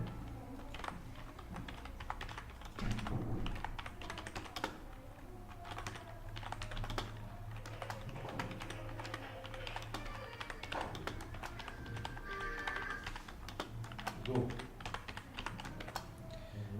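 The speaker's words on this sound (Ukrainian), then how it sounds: "Редагуємо, наприклад, натиснув Enter і Набираю" Fingers type on a computer keyboard in a steady stream of close, light key clicks and taps, with occasional brief pauses and no speech.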